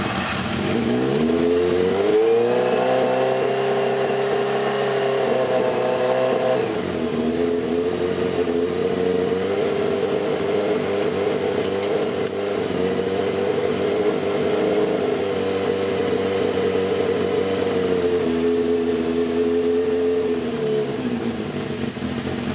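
A small cross kart engine, freshly swapped in after sitting unused for years, runs steadily and loud up close, its pitch rising in a rev early on, easing back, then climbing again near the end.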